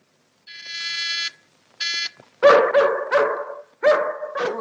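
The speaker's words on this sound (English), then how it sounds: "Don't like the sound of that dog." A dog barks in two quick clusters of about five sharp, loud barks, preceded by two sustained tonal whining cries, with no talking.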